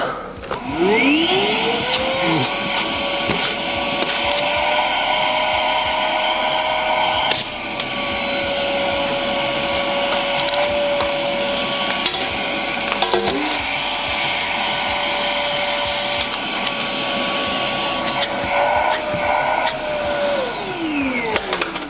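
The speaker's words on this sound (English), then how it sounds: "Nice suction overall, especially as we look at this being a cordless vacuum cleaner." A Pellethead Ash Vault Pro cordless vacuum cleaner runs with a steady high-pitched whine, its pitch rising at start-up and falling as it shuts off, with occasional rattles from debris being sucked in.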